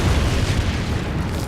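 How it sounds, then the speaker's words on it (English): A booming explosion from the Deadpool video game, loud and broadband with a deep rumbling low end sustained across the whole moment. "Explosion!"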